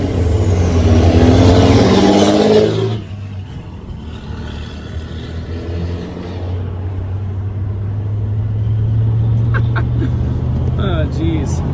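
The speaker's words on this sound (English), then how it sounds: "I do not like the volume that diesel is at" A loud diesel truck engine rumbles heavily up close, easing off briefly before building again to a deep, steady drone.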